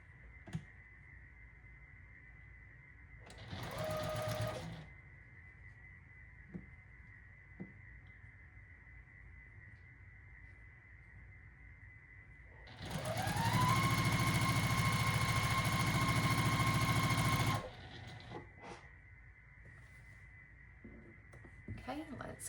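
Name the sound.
sewing machine stitching a quilt block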